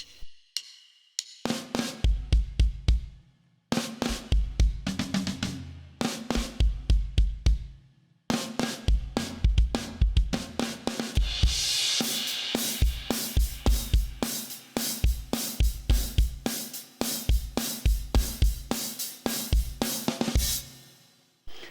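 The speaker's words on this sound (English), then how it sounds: "So we've got this intro, got this lovely guitar intro before the vocals come in." An electric guitar plays the chugging intro riff of a song, with strong bass hits and strummed chords, alone without vocals, loud and steady.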